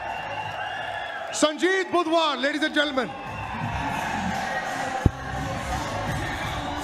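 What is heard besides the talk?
crowd applauding the MFN 9 main event winner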